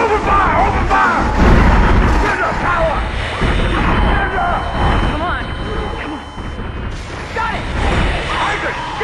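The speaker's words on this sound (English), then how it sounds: "Open fire! Open fire!" Gunfire in the Dead Space video game, a dense, loud stretch of booming shots and bursts layered with game music and effects, with shouting voices mixed in throughout.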